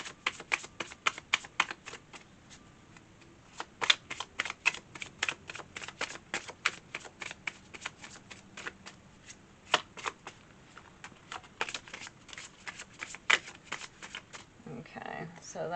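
Tarot cards shuffled in a long run of quick crisp riffling clicks and snaps, steady and close, with faint speech in the background and a louder rustle near the end.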